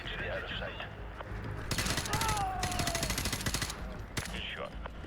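Rapid bursts of automatic gunfire from Call of Duty: Modern Warfare 2 (2009) Remastered in a snowy clifftop mission, a dense volley in the middle and a short burst near the end, with a brief voice early on.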